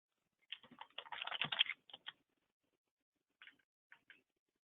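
Computer keyboard keys tapped in a quick, dense burst that then stops, followed after a pause by a few isolated keystrokes; close and fairly quiet, with no talk.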